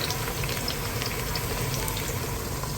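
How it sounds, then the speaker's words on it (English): Onion fries in a pot for Liberian jollof rice, giving a steady, even sizzle at moderate level with no talk. "So while the onion is frying, everything is actually prepared."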